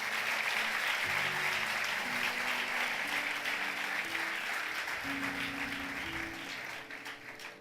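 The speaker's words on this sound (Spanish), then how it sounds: "¿Cuántos pueden dar un aplauso fuerte a Jesús?" A church congregation applauds loudly, a dense sustained clatter of many hands clapping at once, with musical tones underneath and the applause fading slightly toward the end.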